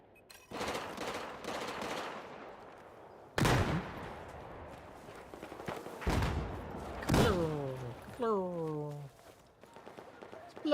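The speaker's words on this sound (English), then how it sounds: "Explosions!" Video game explosions: several sharp, heavy blasts go off at irregular intervals amid bursts of gunfire, followed by falling whistling tones, with voices talking underneath.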